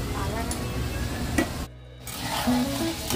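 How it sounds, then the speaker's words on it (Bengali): French fries frying in hot oil in a wok, a steady close sizzle running throughout with a brief quiet gap in the middle and light stirring clinks. "তো এবার তেলের মধ্যে আমি ফ্রেঞ্চ ফ্রাইগুলো দিয়ে দিলাম।"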